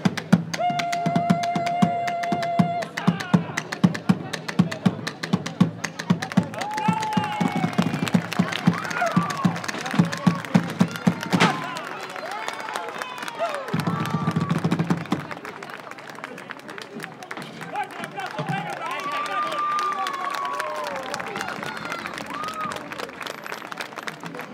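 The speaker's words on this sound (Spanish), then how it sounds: "¡Un aplauso!" Audience at a live Argentine folk duo show clapping in a sustained, dense burst of applause, loud and continuous with crowd noise, fading slightly partway then carrying on steadily under a murmuring room.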